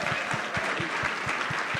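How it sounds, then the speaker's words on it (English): Audience applause at a Bitcoin Day event, a brief burst of clapping with a few distinct rhythmic claps standing out near the front over the crowd. "Let's give him a round of applause."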